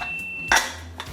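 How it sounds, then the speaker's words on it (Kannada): A single sharp metallic clank as a whistle weight drops onto a pressure cooker lid, then a softer knock, in an otherwise quiet kitchen. "ಪೇಟ್ ಹಾಕೋಣ"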